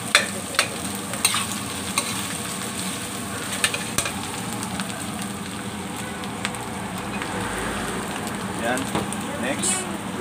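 Sisig with crumbled salted egg fries steadily in a pan with a constant sizzle, while a spoon or spatula stirs and scrapes against the metal in repeated sharp clinks, and a voice talks over it now and then.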